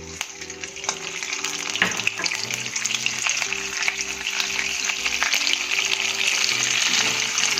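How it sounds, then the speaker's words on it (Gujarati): Butter sizzles in a hot pan while cooking a street-style cheesy paneer gotala, a steady close frying hiss with occasional stirring clicks and scrapes, alone without talk. "ત્યારબાદ તેમાં આપણે બટર નાખીશું. બટર એડ કરીશું."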